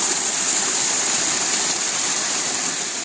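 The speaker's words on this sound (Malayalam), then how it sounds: "എവിടെയും ചെറിയൊരു വെള്ളച്ചാട്ടം, ഒരു കുട്ടി വെള്ളച്ചാട്ടം." A small waterfall on a stream gives off a loud, even rush of falling water that holds steady without a break until it cuts off abruptly at the end.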